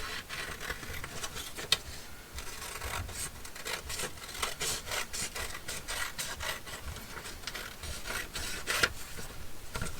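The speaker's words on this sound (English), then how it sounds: "And then we'll trim the excess off." A trimmer slides along card stock to cut off the excess paper edge, producing a soft, continuous close rasping with a couple of sharper clicks, and no talking.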